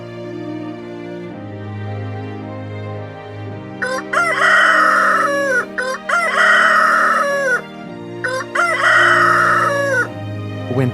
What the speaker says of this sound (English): When Peter heard the rooster